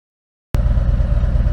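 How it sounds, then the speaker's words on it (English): A 2020 Harley-Davidson Tri-Glide motorcycle engine idles loud and close, cutting in abruptly from silence to a steady low, throbbing rumble. "I started the old Tri-Glide up, so give a little ambiance"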